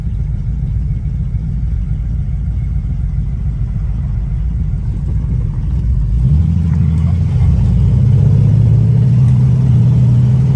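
A muscle car's engine rumbles low and loud, then revs up harder partway through as it accelerates and shifts gears, a close, continuous drone with no talking.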